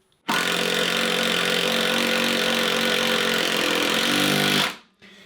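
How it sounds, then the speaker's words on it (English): A Ridgid 12V palm screwdriver drives a 3-inch deck screw, its motor whirring loud and steady for about four seconds before winding down. "the more you press down on the screwdriver, the faster it's going to operate"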